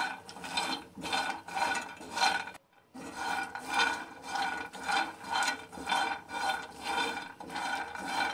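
Peanuts being stirred as they roast in a pan for badam khaja, a steady rhythmic rasping scrape of nuts and utensil across the pan, repeating in even strokes with one brief pause, close and fairly loud with no talk.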